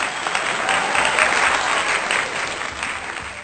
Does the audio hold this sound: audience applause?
yes